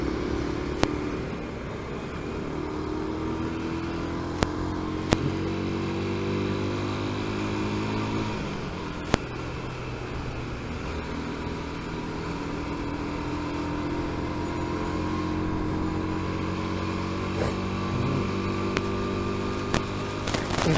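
A Suzuki Intruder 125 motorcycle engine droning steadily while being ridden along a city expressway corridor, its pitch shifting gently through gear changes, with occasional sharp clicks and no talk.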